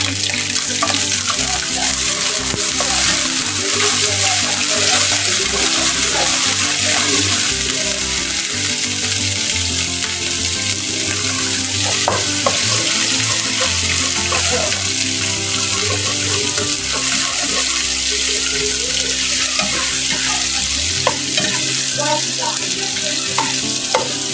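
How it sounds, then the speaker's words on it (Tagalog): Chicken and onions frying in a pan for a Filipino tomato chicken dish, a steady loud sizzle with scattered pops and scraping stirs throughout, no voices. "So, medyo i-brown lang natin yung ating chicken bago natin ilagay yung ibang sangkap."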